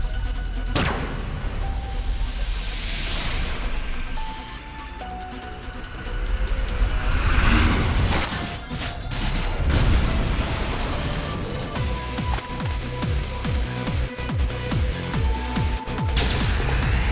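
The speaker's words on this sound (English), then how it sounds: "Mizuki, now! Shoot it with Scattershot!" Scattershot gunfire in the video game AI: The Somnium Files: loud repeated blasts and booming impacts with crackling bursts, layered over game music and effects across the stretch.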